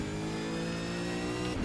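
Engine of a ZB Commodore V8 Supercar in the iRacing racing game, a steady mid-pitched revving drone held briefly and fairly quiet, with no talking.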